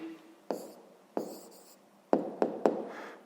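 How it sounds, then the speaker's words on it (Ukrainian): A pen writes out a primary-school maths answer on paper in a few short scratchy strokes, with several distinct taps and scrapes close by in a quiet room. "записуємо тоді відповідь, пишемо відповідь"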